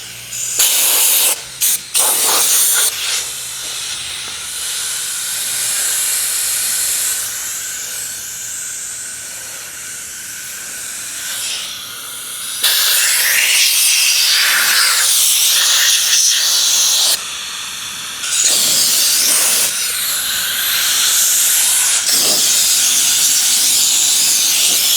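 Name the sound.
compressed air blowing dust off a surface before painting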